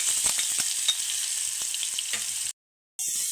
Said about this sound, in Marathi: लसूण आणि हिरव्या मिरचीचा ठेचा टाकून घेते